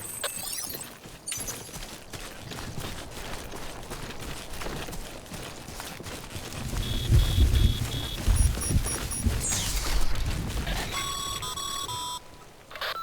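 In the video game Death Stranding, timefall rain hisses steadily and thunder rumbles heavily in the middle, while repeated electronic alert beeps chime over the storm, with no talking.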